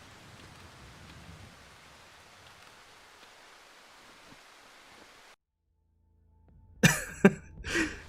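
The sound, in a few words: rain in the video game Darkwood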